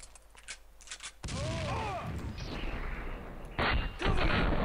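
Heavy 50 cal gunfire in the Max Payne 2 video game, loud close bursts of booming shots that kick in abruptly and repeat, with a brief quieter gap before another strong volley.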